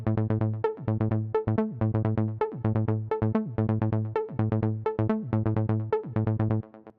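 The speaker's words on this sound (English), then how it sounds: "And it's this acid line from the Acid 5 from Arturio." Acid synth bassline from Arturia Acid V, a steady rhythmic run of squelchy, resonant notes with gliding pitch slides between some of them, loud and up close, played alone without any talking.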